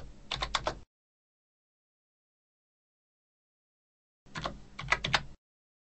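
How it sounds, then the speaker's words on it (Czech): Typing a value on a computer keyboard while adjusting image brightness and contrast: two short bursts of rapid, close key clicks separated by several seconds of complete silence. "vyťukáte požadovanou hodnotu na klávesnici"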